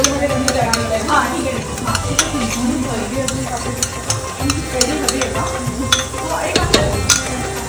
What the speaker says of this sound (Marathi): ही करी अजून जी होती आहे त्याच्यात ही काजूची पेस्ट घालूया काजू आणि खसखशीची केलेली पेस्ट